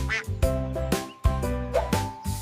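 Duck quacking loudly and close, a rapid series of about six nasal, raspy quacks in an uneven rhythm.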